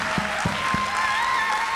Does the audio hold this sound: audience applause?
yes